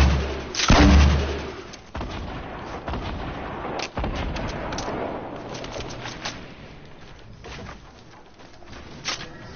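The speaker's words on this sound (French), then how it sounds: "Moi je tire lance-roquette." A rocket launcher fires in the video game Fortnite Battle Royale: one heavy, close blast early on, followed by scattered gunfire and pops in the distance.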